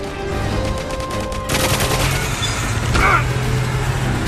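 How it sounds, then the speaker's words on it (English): Rapid AK-47 automatic fire in GoldenEye 007 Reloaded, a loud, dense burst of gunshots that swells midway and continues steadily beneath game sounds, with no talk. "fire off some AK-47 rounds to be as loud and deadly as possible"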